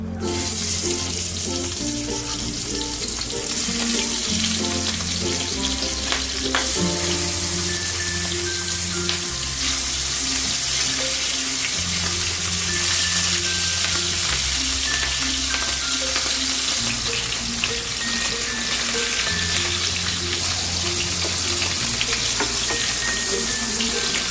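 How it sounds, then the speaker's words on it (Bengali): Rohu fish pieces shallow fry in hot oil, producing a loud, continuous sizzling and spattering that carries on steadily for over twenty seconds, with no one speaking. "তেলটা গরম হয়ে গেছে এবারে আমি মাছগুলোকে দিয়ে দেবো"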